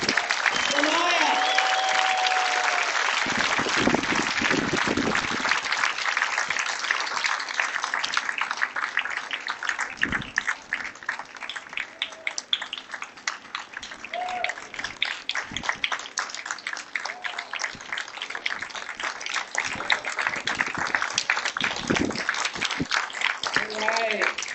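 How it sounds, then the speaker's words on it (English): Steady, sustained audience applause at the trophy ceremony after the girls' 18s singles and doubles tennis finals of a national championship, lasting throughout without pause, with voices talking over it at times. "Another round of applause for Maya"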